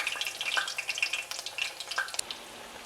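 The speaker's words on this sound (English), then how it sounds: "Start frying your pork for about a minute on each side without overcrowding the pan." Breaded pork cutlet sizzles and crackles in hot oil, a busy spray of pops and hisses that rises and falls steadily, close up with no talking.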